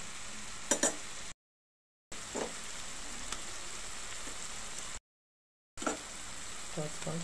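Ginger garlic paste frying in a pan for a chilli and cashew curry, a steady soft sizzle with occasional stirring scrapes, broken by two short silent gaps.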